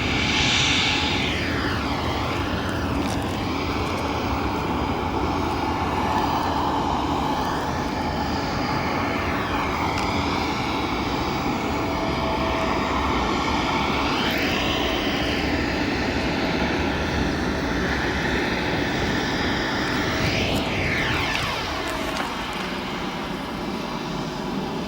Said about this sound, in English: We've got our British Airways Boeing 777 heading off to London.